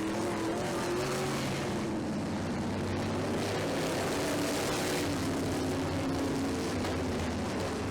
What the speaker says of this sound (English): Come on, Butch, let's hear that Chevy.